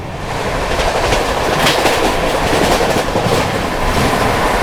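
The 12622 Tamil Nadu Express rolls steadily along the rails in the monsoon, a continuous loud rumble with rhythmic clickety-clack of wheels over rail joints throughout, no voices.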